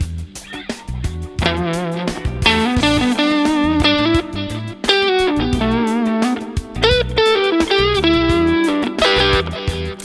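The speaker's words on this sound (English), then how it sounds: "I recently put my guitar into stereo so you can hear how the delay," An electric guitar runs through stereo delay and reverb, playing loud, sustained melodic notes and chords whose echoes repeat and wash out behind each phrase, continuous and upfront throughout.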